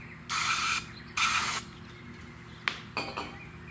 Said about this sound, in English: So I'll spray a little bit in there.